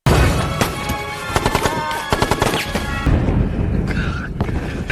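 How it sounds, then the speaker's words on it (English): Battle din of gunfire with warplane airstrikes, dense bursts of machine-gun fire and booming impacts layered under dramatic music, loud and continuous throughout. "The airstrikes from the warplanes coincided with Sergeant Joe's last moments."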